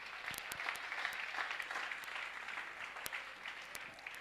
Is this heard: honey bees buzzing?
no